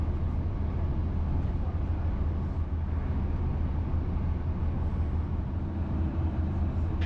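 An Irish Rail train rolls steadily along the tracks through the County Clare countryside between Galway and Limerick, its low, continuous rumble and rattle filling the scene with no voices.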